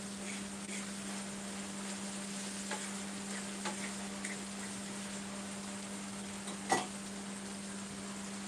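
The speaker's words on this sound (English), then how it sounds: "I'm cooking the seasoning now. I'm frying the seasoning." Seasoning frying in a pan for a mackerel and baked beans dish gives a quiet, steady sizzle with occasional small clinks and one sharp knock, heard alone without talk.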